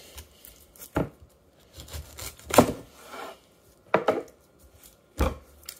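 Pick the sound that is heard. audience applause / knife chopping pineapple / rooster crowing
knife chopping pineapple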